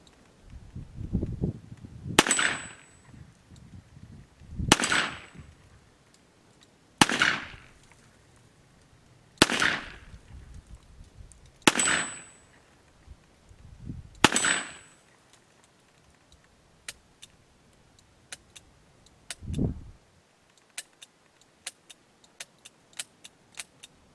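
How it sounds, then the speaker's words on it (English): A Colt Python .357 Magnum revolver with a 4-inch barrel is fired double action outdoors. Six sharp, loud shots come at an even pace about two seconds apart, followed by quieter clicks and handling noises. "Now I'm going to try to shoot a double action here."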